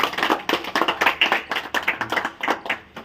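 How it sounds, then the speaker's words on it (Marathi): Students in a classroom clap for a winner, a close, brisk run of individual hand claps in an uneven rhythm that continues throughout. "त्यामुळे सगळे जोरदार टाळ्या आदित्यसाठी"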